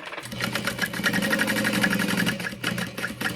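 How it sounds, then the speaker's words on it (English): A sewing machine basting around the outer edge of a fabric sling bag, running in a fast, continuous close-up whir of rapid needle strokes with a brief slowdown near the end. "So just basting around the outer edge."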